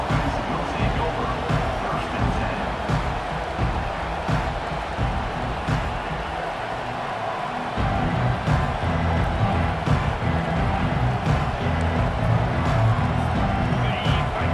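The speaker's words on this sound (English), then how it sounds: "This crowd bringing the energy and noise early" Stadium crowd noise at a UCLA vs Ohio State college football game: a steady, dense roar of many voices filling the clip at constant loudness, with brief swells and a play-by-play commentator talking over it.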